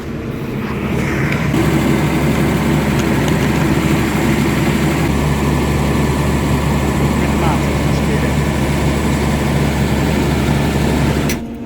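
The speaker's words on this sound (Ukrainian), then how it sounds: "Вже приїхав тракторець і вже дискуємо." A tractor engine runs steadily and loud in a winter wheat field during harvest, a constant droning hum with no break from start to finish, with faint talk over it.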